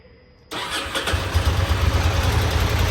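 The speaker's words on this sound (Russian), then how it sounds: "Думаю, сейчас уже ему хватит заряда, чтобы запуститься." Ducati Monster 620 motorcycle engine fires up after a jump-start, a sudden start from near silence into a loud, steady low rumble that settles into a running idle, close by with no talking.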